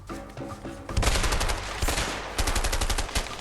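Hostile gunfire in A Way Out crackles in loud, rapid automatic bursts. A short lull separates them, and the shots sound close to the listener.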